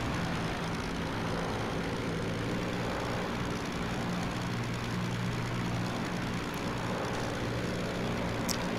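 A P-39Q Airacobra's engine drones steadily in flight in the combat flight game Aces High, a loud continuous propeller roar with an even low hum that never lets up.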